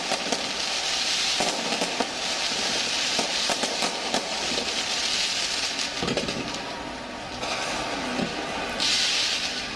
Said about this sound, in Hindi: काफी लंबी देर तक ये आतिशबाजी हो रही है।